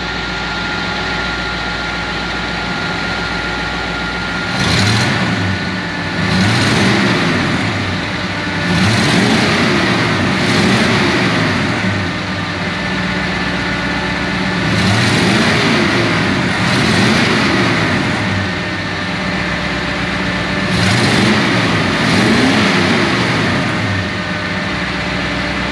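A 1940 Ford Sedan Delivery hot rod engine runs steadily and smoothly nearby, with a continuous rumble and a few moderate revs rising and falling over the idle, no talking.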